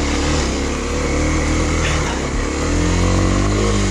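Kawasaki KLX250 dual-sport motorcycle climbing an uphill trail in first gear at full throttle, a steady, loud, close engine roar that holds without a break throughout.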